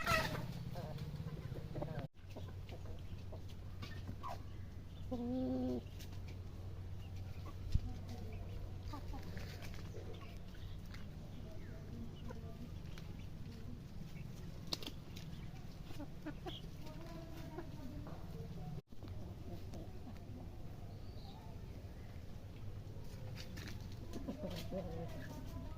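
Parrot-beak fighter chickens, a black male and a female, cluck softly on a farm, with a brief louder call partway through over a low background hum, while a person talks.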